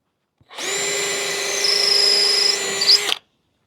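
A power drill bores a pilot hole into wood, one continuous close whine lasting about two and a half seconds with a slight strain near the end, then silence.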